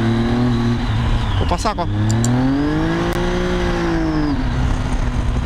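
Motorcycle with a faulty, slipping clutch revving up and easing off, the engine note climbing, sweeping and falling in a loud close drone, with someone speaking over it.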